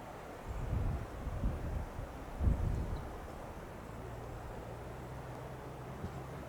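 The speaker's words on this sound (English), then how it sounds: "It's pretty windy out here." Wind gusting across the microphone in low rumbling bursts, strongest early on, then settling into a steady faint rush.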